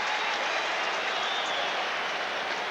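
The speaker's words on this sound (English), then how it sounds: "the crowd gives him a huge round of applause" A dense wash of crowd applause fills an ice hockey arena during a Detroit Red Wings playoff game, steady and loud throughout without a break.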